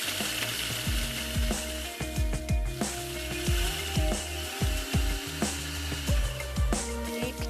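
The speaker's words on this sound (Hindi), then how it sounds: "तो मैं यहाँ पर बिस्किट्स को क्रश कर लेती हूँ।" Biscuits being crushed for peanut butter bars make repeated crunching, thumping strokes in a steady, close rhythm, with no voices.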